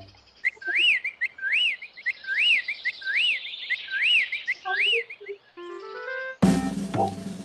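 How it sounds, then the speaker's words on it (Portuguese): Startled macaws give repeated rising-falling whistles in a steady rhythm, six in a row, followed by a few higher tones and a sudden burst of noisy sound, in a forest. "as araras, espantadas, assoviam pedindo a ajuda do Curupira."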